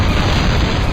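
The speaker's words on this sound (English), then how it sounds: "These dual 25mm cannons, they are powerful." Dual 25mm cannons fire in the Interstate '76 video game, giving one dense, loud, booming blast that fills the whole second without a break.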